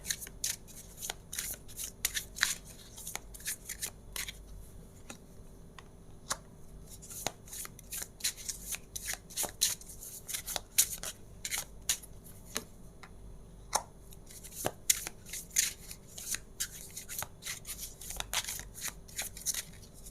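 Tarot cards are shuffled and handled for a long stretch, giving crisp riffling flicks and sharp snapping taps in irregular bursts, close and fairly quiet, with no speech.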